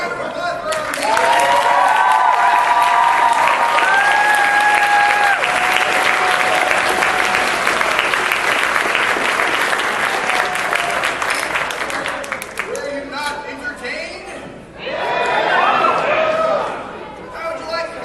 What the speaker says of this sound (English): Ladies and gentlemen, can we get another round of applause for Irving?